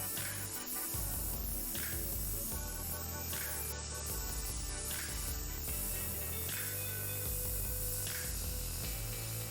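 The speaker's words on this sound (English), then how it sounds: "We're using the Iwata Revolution today, just to show, you know, what's possible with the airbrush" Iwata Revolution airbrush spraying paint onto canvas, a steady continuous hiss with faint periodic clicks, close and unbroken throughout.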